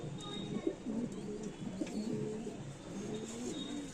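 Pigeons coo softly and repeatedly nearby, low throaty calls rolling one after another against a quiet background.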